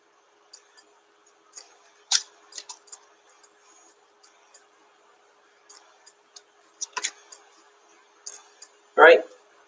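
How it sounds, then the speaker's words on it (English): Tarot cards being shuffled by hand, a quiet scatter of light ticking card flicks and soft riffles in short clusters, fairly close, with a brief louder rustle near the end. "I'm just going to do one more shuffle."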